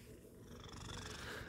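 A pet cat purrs right next to the listener, a dense steady rumble that swells slightly, with nothing else audible.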